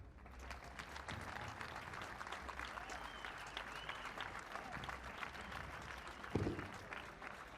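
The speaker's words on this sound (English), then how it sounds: "help me give a big, big applause and big thank you to all the people who made this happen" Crowd applause for the organizers and technicians at a blind football European championship, a faint, distant, steady patter of many hands lasting throughout, with one sharper knock near the end.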